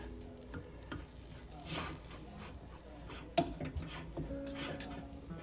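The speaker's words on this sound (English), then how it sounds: "fluff your rice with a fork" A fork fluffs cooked Spanish rice in a pot, with soft scraping and stirring rustles and a sharp clink of metal partway through, close and quiet without talk.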